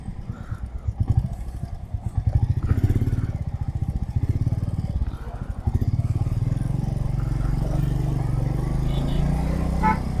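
A Royal Enfield Meteor 350 motorcycle rides along on a road trip to Panhala, its steady low engine drone and throbbing exhaust staying loud and close throughout with brief dips as the throttle changes.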